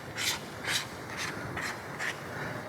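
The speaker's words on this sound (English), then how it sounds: "I have to screw in the ND filter." A variable ND filter being screwed onto the front of a camera lens: five or six short, faint scraping rubs of threaded metal, evenly spaced, close and quiet with no voices.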